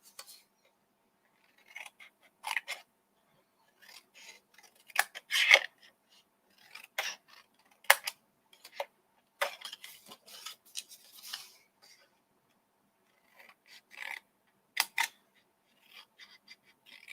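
Scissors snip along the score line of a paper craft explosion box lid, producing short crisp cutting bursts in an irregular series with brief pauses between them, close by and with no talking.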